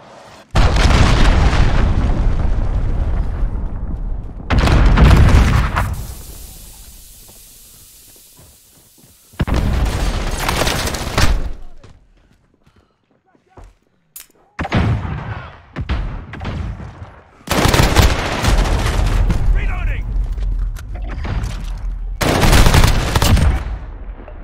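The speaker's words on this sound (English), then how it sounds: "Allied cruise missile launched." Cruise missile strikes rock a Call of Duty: Modern Warfare PC beta match, with loud booming explosions and crackling gunfire in long roaring bursts separated by brief lulls.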